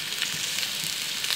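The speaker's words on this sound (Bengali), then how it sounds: "এই তো আমার পটলের ছোলা ভাজা।" Pointed gourd peels with a light pinch of salt fry in a pan, giving a steady, dense sizzle that crackles evenly throughout with no voices.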